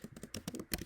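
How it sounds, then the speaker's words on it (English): Quick keystrokes on a computer keyboard, about nine or ten distinct clicky taps in an uneven rhythm, close and fairly quiet, with no voices. "Now let's say I wanted to type something."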